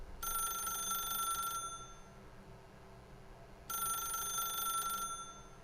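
Two long bursts of a bright, trilling telephone bell ring out, separated by a short pause, loud and close with no talking.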